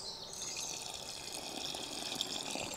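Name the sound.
water being added to sambar pot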